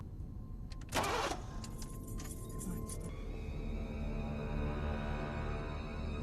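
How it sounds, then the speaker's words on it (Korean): A car engine in a film cranks briefly, then gives a sharp burst and falls into a low, uneven mechanical rumble, heard close and alone without voices. "갑자기 차량의 시동이 걸리지 않습니다"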